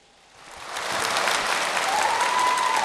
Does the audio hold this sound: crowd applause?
yes